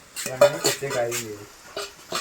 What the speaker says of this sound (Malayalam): നന്നായി നമുക്ക് അതിലേക്ക് യോജിപ്പിച്ചു കൊടുക്കാം